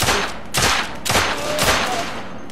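Gunfire in the video game The Order 1886, several loud, close shots and bursts in rapid succession, each cracking out and then decaying, with no voices over them.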